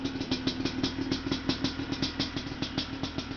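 A 2002 Yamaha Blaster 200cc ATV idles after a very cold start in freezing weather, a fast, even chuffing beat from the exhaust, close and fairly quiet, with no one talking.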